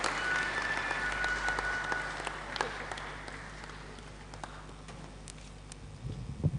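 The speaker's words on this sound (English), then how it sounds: "That particular applause was not resounding enough" Sparse, fading applause from an audience at a stakeholders' engagement event on the Lagos–Calabar coastal road, scattered claps that thin out quickly, with faint murmuring and no clear speech.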